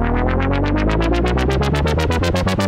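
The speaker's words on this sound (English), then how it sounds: "But with the riser, it then sounds like this." Synth bass from an Elektron Digitone turned into a riser by its sequencer: loud repeating notes that speed up and climb steadily in pitch, building tension without any voices.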